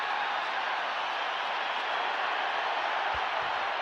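A rugby stadium crowd at a South Africa versus Wales match gives a sustained, broad roar of cheering, steady and fairly distant throughout with no clear individual voices standing out.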